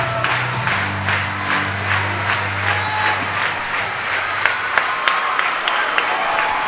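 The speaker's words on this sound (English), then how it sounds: "Crowd's getting energetic right here." A boys' high school district basketball crowd claps and cheers steadily in a gym, with rhythmic clapping and a low sustained horn-like tone early on beneath the din.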